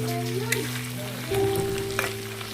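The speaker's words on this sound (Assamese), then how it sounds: "অলপ ফ্ৰাই হৈ লওক আৰু কালাৰটো যেতিয়া আহি যাব, বৰ ধুনীয়া কালাৰ হৈ যাব।" Chicken pieces fry in an oil-filled pan for a gravy, a dense, close sizzle with occasional stirring scrapes over a steady background hum.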